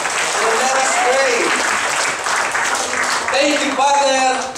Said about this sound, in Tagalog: Palakpak po kay Lord.